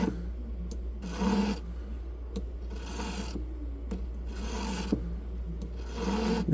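Repeated rasping strokes of a file smoothing work, steady back-and-forth rhythm over a constant low hum, with a few sharp ticks between strokes.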